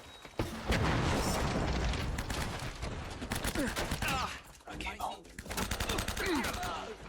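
Rapid video game gunfire in an Uncharted boss fight, dense bursts of shots and impacts layered over the game's sound effects, loud and continuous throughout.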